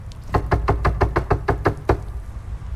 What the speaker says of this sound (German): Klopf.